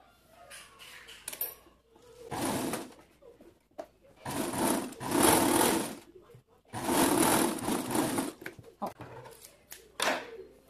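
Sewing machine stitching the back neckline and sleeve seams of a draped dress with batwing sleeves, running in three sustained bursts of a few seconds each, close and clear, with light handling noises between runs.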